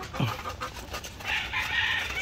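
Fighting cock chickens on a farm, a single short low cluck near, then soft ambient farm noise with a faint hiss.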